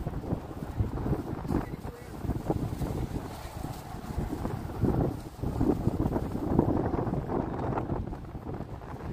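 Wind gusts buffet the microphone in a steady rumbling roar along a windy seaside promenade with a cruise ship nearby, rising and dipping throughout, with a voice speaking briefly underneath.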